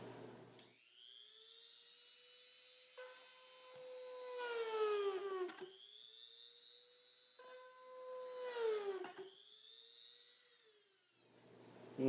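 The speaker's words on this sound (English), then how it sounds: "The Dremel tool might be a little bit loud." A high-pitched Dremel rotary tool whines loudly in repeated bursts, its pitch dipping as it bites into plastic, then spinning back up between cuts.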